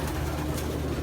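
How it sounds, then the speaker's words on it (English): Pigeons at the Hoosier Classic pigeon show, freshly back from flying, give a steady low cooing murmur that continues without a break, close by and fairly loud, with no talk. "I'll show you some pigeons"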